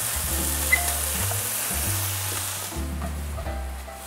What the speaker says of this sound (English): Get them sizzling and doing their thing.